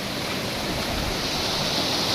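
Water rushing down Datar hill near Junagadh, a steady, broadband roar of cascading flow that holds constant throughout with no voices.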